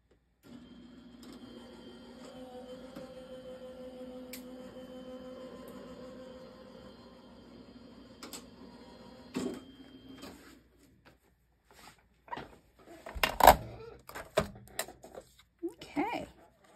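Die-cutting machine feeding a handmade greeting card through its rollers, a steady close mechanical hum for several seconds, then stopping before scattered handling clatter and a voice talking.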